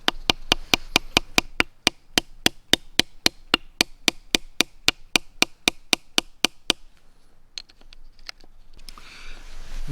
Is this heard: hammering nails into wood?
yes